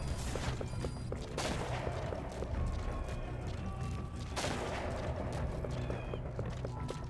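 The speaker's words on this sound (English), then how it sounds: "Alright, so Quiet is shooting at something." Gunfire from a sniper character during a stealth mission in the video game Metal Gear Solid V: The Phantom Pain, a busy burst of shots and clattering over a dense, continuous game soundtrack.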